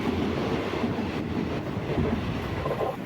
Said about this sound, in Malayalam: നമ്മുടെ ഹിംസാഗർ എക്സ്പ്രസ് ആണ് ഈ ക്രോസ് ചെയ്ത് പോകുന്നത്